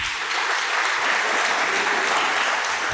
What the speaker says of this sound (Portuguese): Aplauda ao Senhor que Ele é digno